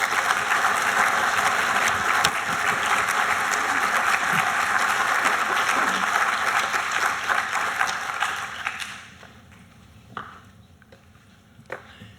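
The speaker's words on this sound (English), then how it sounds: "please join me in giving a warm round of applause" An audience at a scientific symposium gives a warm round of applause for a speaker, loud dense clapping that holds steady, then fades away to a few scattered claps near the end.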